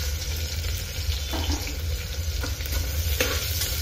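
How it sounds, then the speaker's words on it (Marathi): Onion frying in a pan after ginger-garlic paste, a soft, steady sizzle with occasional scraping stirs, fairly quiet and without speech. "कांदा असा चांगला परतून घ्यायचा"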